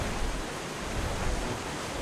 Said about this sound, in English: And through the waterfall.